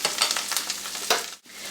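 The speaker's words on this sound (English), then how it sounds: "waiting for our mushrooms and onions to cook. As you can see, they're getting nice and caramelized" Mushrooms and onions sizzle and crackle steadily in a hot pan while caramelizing, with occasional stirring scrapes, a brief pause, then the frying resumes, close and fairly loud with no voices.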